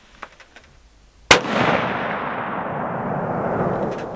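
A single sharp .243 rifle shot at an outdoor target range, loud and abrupt, followed by a long rolling echo that fades slowly, with a few faint clicks just before.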